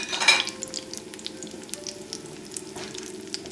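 Risotto cakes with spinach and mushrooms frying in a pan give off a close, steady sizzle with small crackles, loudest in the first half second, with no talk.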